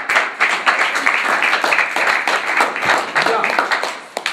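A classroom of pupils at a French tutoring lesson clap in a loose, uneven rhythm, with sharp individual claps standing out over chatter and voices throughout.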